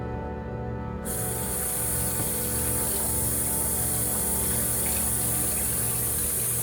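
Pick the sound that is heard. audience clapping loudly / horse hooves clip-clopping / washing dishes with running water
washing dishes with running water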